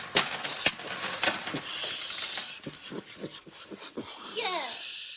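Pennies drop onto a surface in a burst of bright metallic clinks and jingles, followed by scattered settling taps, with a child's babble and faint background voices.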